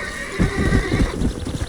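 A horse in the Western video game Red Dead Redemption gives a loud, close whinny, followed by clip-clopping hooves and movement sounds.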